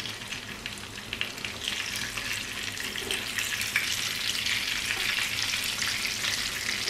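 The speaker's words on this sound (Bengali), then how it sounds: "এক পিঠ ভাজা হয়ে গেলে আমি মাছগুলোকে উল্টিয়ে দেব" Hilsa fish frying in a pan of hot oil, a continuous crackling sizzle with a few soft stirring touches, fairly quiet and steady with no voices.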